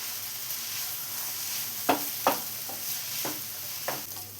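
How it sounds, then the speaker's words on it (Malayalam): Green chillies and curry leaves fry with onions in a pan, giving a steady soft sizzle broken by several light scrapes of a spoon, close by with no talking. "ഈ സമയം നമുക്ക് ഇതിലോട്ട് 2 പച്ചമുളക് കട്ട് ചെയ്ത് വെച്ചിട്ടും അല്പം വേപ്പിലയും കൂടെ ചേർത്ത് കൊടുക്കാം"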